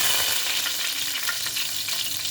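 Cumin seeds and curry leaves fry in hot oil at the start of a spicy fish pulusu, a loud, steady close-up sizzle and crackle that holds without a break.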